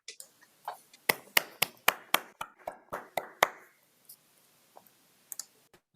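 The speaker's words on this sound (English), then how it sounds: "Please unmute yourselves and give the speaker a round of applause" Scattered applause from an online audience joining in remotely: a short run of sharp, uneven claps over about three seconds, thinning out to a few isolated pats afterward.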